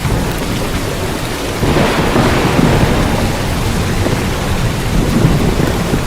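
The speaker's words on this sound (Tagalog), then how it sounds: "Ang lakas ng kidlat at kulob, umulan na." Thunder and rain sound effect in a Filipino radio ad: loud, dense rainfall with a deep rumbling swell of thunder building early on and continuing, no voices.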